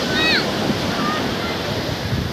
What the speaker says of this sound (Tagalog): Ayan, medyo maalon.